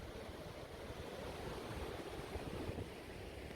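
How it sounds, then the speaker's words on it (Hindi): Glacier meltwater on the Mana Pass–Satopanth trek makes a steady, broad rushing wash through a crack in the ice, continuous and moderately close, with no voices. "पानी पिघलता हुआ"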